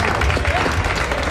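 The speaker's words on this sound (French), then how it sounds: "Sous vos applaudissements" Applause greeting a young rock band and their manager, with a dense burst of crowd clapping that stays loud and steady throughout.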